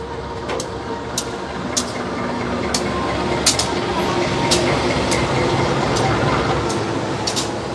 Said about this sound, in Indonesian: Tuh kereta api Sawung Galih sudah masuk di jalur 3